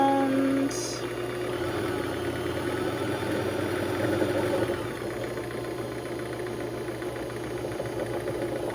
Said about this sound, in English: you just want to get your bobbin all nice and wound